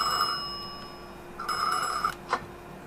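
A telephone rings in an apartment in the game Mafia 2, buzzy electronic ring bursts separated by short gaps, then a brief click, all heard clearly with no talking.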